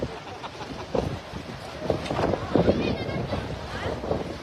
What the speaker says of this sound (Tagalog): Atong nasaksihan karon mga ka-people ang kusog nga hangin.